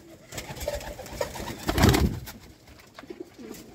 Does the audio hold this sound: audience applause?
no